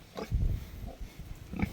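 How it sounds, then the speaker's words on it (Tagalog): A pig on a farm in the Philippines lets out low, close grunts in two bursts, a longer rumbling run at the start and a shorter grunt near the end, with rustling in between. "Yung baboy natin guys"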